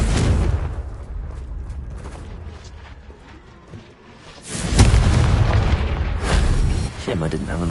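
Confringo blasting spell in Hogwarts Legacy going off as a loud, booming explosion with a crackling rumble that lingers, following an earlier stretch of game noise and movement.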